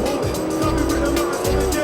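A 600cc homemade Formula Student race car skids as its wheels lock under braking during a braking test, a sustained tonal tire squeal over engine hum, loud and close, with a voice talking underneath.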